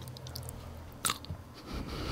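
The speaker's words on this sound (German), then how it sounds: "Ich mag dieses Knacken." Grapes are bitten and chewed close to the mic, a sharp crisp crunch of the skin breaking followed by soft wet mastication, quiet and alone.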